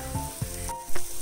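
Masala spices frying in a pan for a besan sabji, giving a steady close sizzle with soft crackles throughout and no talking.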